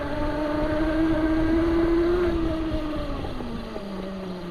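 Venom Motorsports 48v Motec 1600w electric dirt bike being ridden outdoors, a steady loud electric motor whine that rises and falls slightly in pitch, with wind rushing over the microphone throughout.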